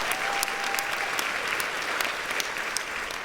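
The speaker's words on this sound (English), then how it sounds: "give her a round of applause." Steady, dense applause from a large audience at a Latina History Day speech fills the hall continuously, loud and sustained with scattered sharper claps throughout.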